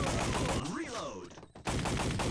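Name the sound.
gunshots from the video game Time Crisis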